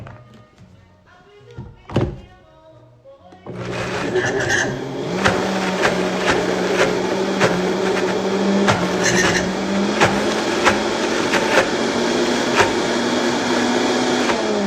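A loud, steady motor roar kicks in after a few quiet seconds with a couple of knocks, whirring continuously with small bumps and rattles throughout, like a blender running.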